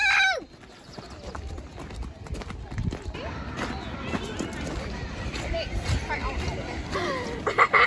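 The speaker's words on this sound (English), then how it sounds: "I'm seeing the ponies again." Ponies walking nearby with soft hoof clip-clops scattered through the clip, partly masked by background voices and ambient noise at an animal enclosure.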